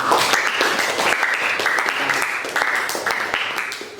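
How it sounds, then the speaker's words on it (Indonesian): A group of participants at a history teacher-training performance exam in Indonesia claps together, a brief burst of moderately loud applause with some voices mixed in underneath. "Beri tepuk tangan untuk kita semua."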